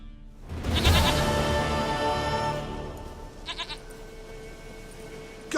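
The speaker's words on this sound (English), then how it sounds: "Goat of mine, dearest," A goat in The Witcher 3 lets out a loud, wavering bleat up close, followed by fainter broken bleats and a quiet in-game background.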